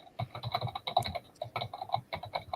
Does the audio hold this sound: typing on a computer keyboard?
yes